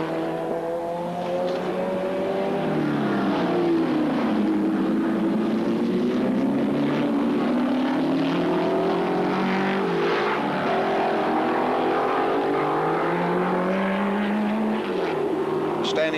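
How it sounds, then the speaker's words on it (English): A 3-litre desmodromic straight-eight Mercedes-Benz racing car howls around the track at Sandown, its engine note rising and falling through gear changes as it passes, while a commentator talks over the sustained roar. "you can listen to this sound, this marvellous desmodromic straight 8 Mercedes-Benz, 3 litres of fascinating car"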